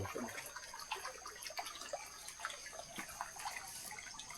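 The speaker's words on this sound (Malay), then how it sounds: "Air sungai dia mengalir jernih." Clear river water flows steadily past a sunny garden plot, a soft continuous trickle and burble with scattered small splashes, faint and close, with no voices.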